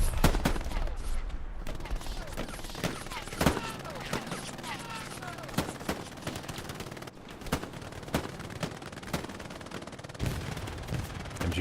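Gunfire fills a desert valley battle at El Alamein in the WWII shooter Hell Let Loose, with MG42 machine guns among the weapons. Sharp shots and short bursts crack repeatedly, some close and some distant, against a constant battlefield din.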